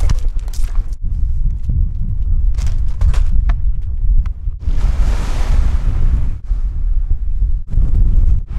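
Strong wind buffets a small fishing boat off Durville Island, New Zealand, roaring steadily across the microphone in gusts, with a few knocks and thumps on board.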